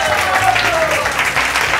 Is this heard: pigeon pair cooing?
no